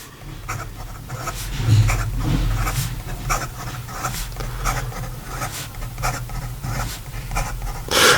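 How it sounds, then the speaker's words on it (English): A Carolina Pen Company Aiken fountain pen scratches quickly across paper in fast, repeated strokes, a close, soft rustling scratch with a low background hum underneath. "And then in regard to some fast writing"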